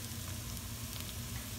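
Turmeric powder hits onions frying in hot oil for a Kerala-style roasted-coconut chicken curry, giving a dense, even sizzle that hisses steadily up close without pause or voices.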